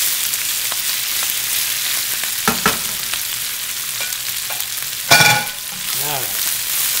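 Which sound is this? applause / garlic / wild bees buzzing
garlic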